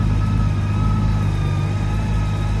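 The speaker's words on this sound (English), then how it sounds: "then we'll fire the bike up and check it out" A Honda Goldwing motorcycle engine runs at a steady idle on a cold December day, a continuous low rumble with a constant hum held at an even level throughout, with no voices.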